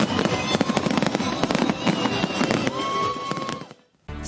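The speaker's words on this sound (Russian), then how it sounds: "Завершился вечер праздничным грандиозным салютом." A grand festive fireworks salute over Nizhnekamsk bursts in rapid, loud crackling volleys with sharp pops, then cuts off abruptly into a brief silence before another bang.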